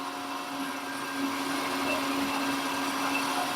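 A metal lathe making a light spring pass on a custom bicycle shaft held against a live centre, giving a steady whirring machine hum with a bright tonal whine, continuous and close for the whole stretch, no talking.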